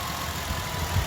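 A 2020 Ford Transit with a non-turbo engine idles close by, a steady low, even rumble with slight uneven pulses throughout and no talking.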